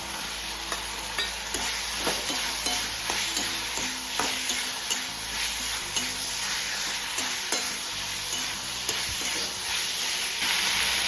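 Paneer cubes fry in a hot pan for paneer chilli, a continuous close sizzle broken by regular scraping stirs of a spatula, steady throughout with no talking.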